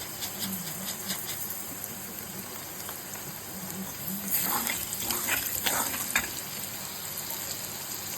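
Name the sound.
cumin seeds sizzling as they are added to hot oil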